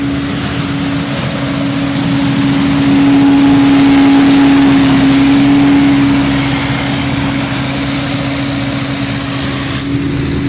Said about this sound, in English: This is a neat machine here. It's called a sweeper or a windrower.